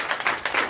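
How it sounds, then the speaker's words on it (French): A church congregation at a Sunday service in Benin claps in acclamation, a few quick, sharp hand claps in a short uneven burst, close and moderately loud. "Donnez l'acclamation à Jésus."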